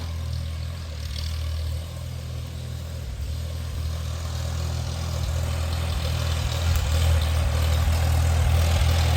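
A 1947 Farmall A tractor engine runs with a steady low idling rumble, close and alone, and the chugging grows slightly louder and rougher partway through.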